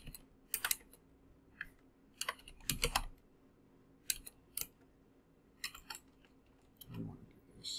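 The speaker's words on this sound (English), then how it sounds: "I can't talk and type at the same time" Fingers type on a computer keyboard while C++ code is written, producing scattered, irregular clicky keystrokes in bursts with pauses between them, close but fairly quiet.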